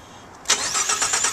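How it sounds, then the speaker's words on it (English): The 3.5-litre EcoBoost turbo V6 in a 2013 Ford F-150 XLT crew cab cranks briefly and catches. It then settles into a steady, close idle with a slight rhythmic pulse. "We're going to do a startup and test run of a 2013 F-150"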